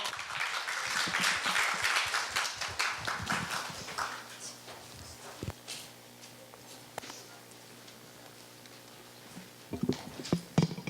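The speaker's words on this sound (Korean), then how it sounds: "큰 박수 부탁드립니다." Audience applause at a student speech contest as a middle-school participant comes up, brisk clapping for a few seconds that thins into scattered claps and room hum, then a few louder knocks and taps at the end.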